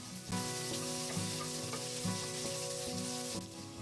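Onions sauté in a hot pan with salt and then cashews while being stirred, sizzling with occasional scraping strokes, over soft background music.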